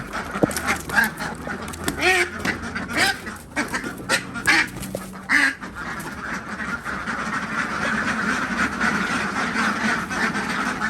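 Several plump meat ducks quacking close by in bursts, with honking calls mixed in and a steady outdoor background; someone talks intermittently.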